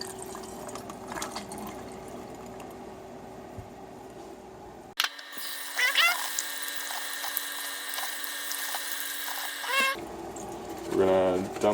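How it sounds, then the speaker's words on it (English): Tap water runs over almonds in a small colander, a bright steady hiss of rinsing lasting several seconds, close and fairly loud, with brief handling sounds before and after. "We're going to rinse the almonds off in this little colander thing because the water is kind of gross."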